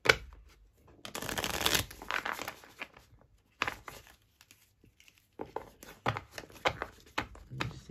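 Playing cards are shuffled by hand in several close, crisp bursts of riffling and flicking, separated by brief quiet gaps, with no speech over them.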